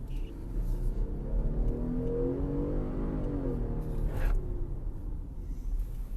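A 2021 Jeep Grand Cherokee accelerates hard, its engine note climbing steadily in a rising whine over a few seconds before easing off, heard close and loud with no talking.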